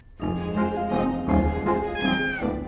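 A cat meows loudly and close by in a cluttered hoarder's house, giving a long, drawn-out meow followed by a couple of shorter wavering calls.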